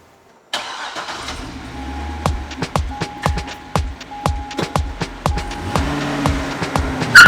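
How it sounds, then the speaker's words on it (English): A Corvette starts up and pulls away, a sudden engine note followed by a run of rhythmic revving bursts, close and loud, with a faint voice near the start. "Take your Corvette and drive away."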